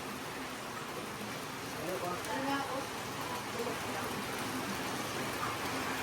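A sudden heavy downpour hisses steadily as a dense, even wash of rain drumming on surfaces, loud and continuous throughout.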